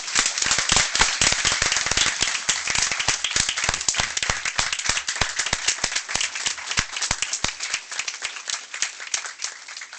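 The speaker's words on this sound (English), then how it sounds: "we can applaud for now" Applause at a Michigan Public Service Commission meeting: a small group clapping steadily and sharply at close range, individual claps distinct and dense, continuing for ten seconds and thinning slightly near the end.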